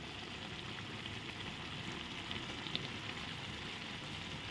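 Ghee sizzling in a pan with garam masala while a vegetarian papaya dish cooks: a steady, faint, even frying hiss with no talk.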